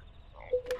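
A frog croaks in a video game, two short tonal croaks close together near the end of a brief, quiet clip, with no voices.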